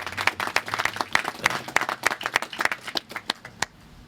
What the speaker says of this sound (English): we owe Scott and his team a great round of applause for all this activity